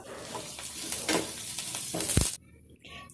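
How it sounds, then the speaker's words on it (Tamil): Curry leaves frying in a pan with lentils and dried chillies, a bright crackling sizzle with stirring scrapes and a sharp metallic knock before the sound drops away suddenly near the end. "வத்தல் வதங்கினதுக்கு அப்புறமா கறிவேப்பிலை சேர்த்து வறுத்து எடுத்துக்கலாம்."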